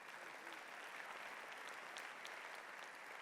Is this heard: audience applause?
yes